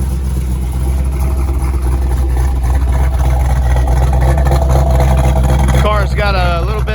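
A 1968.5 Ford Mustang 428 Cobra Jet V8 with an upgraded cam and four-speed idles with a loud, deep, lumpy rumble, steady throughout, while a person talks over it.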